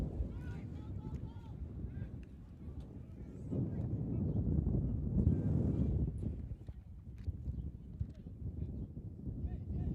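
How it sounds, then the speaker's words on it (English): Steady low wind buffets the microphone throughout an outdoor amateur football match, a broad rumbling roar that swells louder through the middle, with faint distant voices and thuds underneath. "as the wind picks up again"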